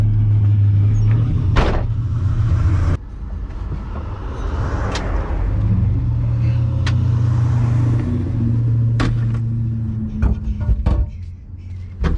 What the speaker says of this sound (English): Yeah, it's probably my exhaust.